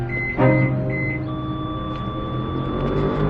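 A house alarm keypad is being set, giving a few short electronic beeps early on, then a steady high tone holds over quiet room background with a faint low hum; no talk.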